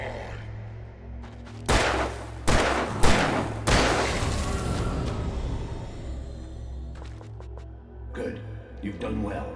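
Several loud gunshot bursts in Alan Wake Remastered, a handful of sharp blasts clustered near the start and a few fainter cracks later, over a steady low drone with a voice speaking through it.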